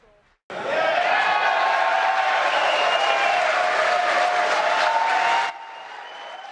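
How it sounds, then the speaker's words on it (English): A crowd watching the SpaceX Dragon capsule splash down in the Atlantic after leaving the space station erupts in loud, sustained cheering and applause that starts abruptly and cuts off after about five seconds. "the crowd going wild once that capsule splashed down and was seen floating upright"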